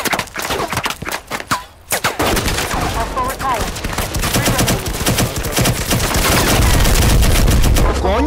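Bursts of rapid gunfire in the video game Firewall Zero Hour, loud and close, with a short pause and then sustained automatic fire alongside other game sounds.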